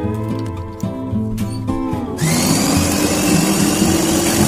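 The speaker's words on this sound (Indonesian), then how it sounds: "Kita blender ya hingga halus." A blender grinds minced meat with fried shallots and fried garlic, first chopping in uneven, stuttering pulses, then settling after about two seconds into a loud, steady, high whirring roar that runs to the end.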